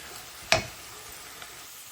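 Spices frying in a hot pan for a home-cooked curry with turmeric, curry powder and coriander powder: one sharp sizzle burst that quickly fades into a low, steady crackle, with a faint second hiss shortly after.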